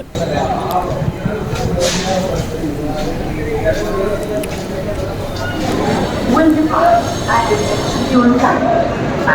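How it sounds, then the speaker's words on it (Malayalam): A train rumbles steadily past close by beneath an overbridge, a continuous heavy rolling roar with faint clatter and a few high squeals, while someone talks over it. "ഈ താഴെ ട്രെയിൻ പോകുന്ന ഭാഗമാണ് ഓവർ ബ്രിഡ്ജ് ആണിത്"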